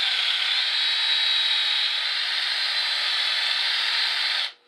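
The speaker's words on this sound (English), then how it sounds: "Now we're going to need to ream it out a little bit." A reamer turns in a hole bored in wood for a homemade ball starter. It makes a steady, close grinding whir for over four seconds before it winds down quickly.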